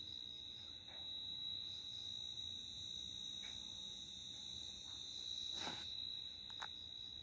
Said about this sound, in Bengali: শুধু ঝিঝি পোকারা ডাকছে